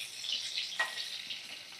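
Potatoes frying in oil already mixed with turmeric and salt over a medium flame, a soft, faint continuous sizzle with a brief stir or spatter partway through.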